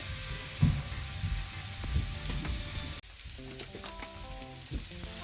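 Shrimp sauce for creamy shrimp fettuccine Alfredo sizzles steadily in a pan over a turned-up flame while being stirred, a close, dense frying hiss with occasional scraping.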